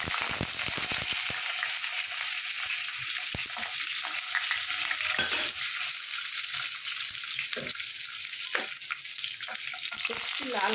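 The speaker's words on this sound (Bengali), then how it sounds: "আর এই দেখো গোটা রসুনটাকেও আমি একইভাবে ভেজে নেব।" Whole garlic cloves fry in hot oil with a steady, dense sizzle and crackle that holds throughout, with occasional sharper pops and spatters.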